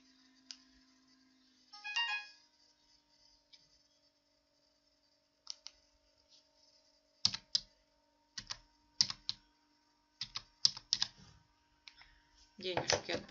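A code is typed on a computer keyboard as quiet scattered key clicks in short bursts, with a brief tone near the start and a voice at the end.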